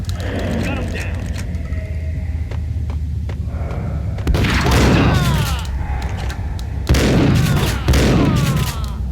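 Gunfire in the Max Payne video game, loud bursts of shots under speech and game effects, with two heavier volleys cutting in during the second half.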